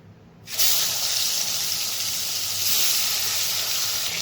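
Boal fish pieces, coated in turmeric and salt, drop into hot oil, and a sudden loud sizzle bursts in after a quiet moment, then holds as a steady, bright hiss.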